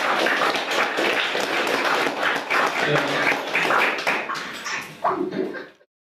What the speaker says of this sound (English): Round of applause, Tarrin Lupo.